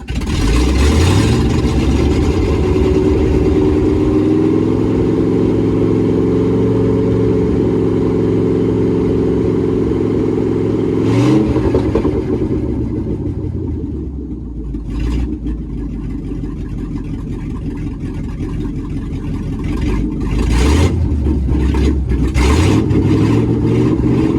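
A Volvo C30 engine, sitting unused for 26 years, revs loud and close on too much gas. The pitch climbs, holds at a steady high idle, dips around the middle and then rises again.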